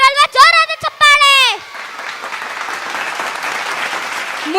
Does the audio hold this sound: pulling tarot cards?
no